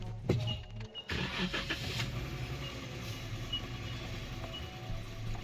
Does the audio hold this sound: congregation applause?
no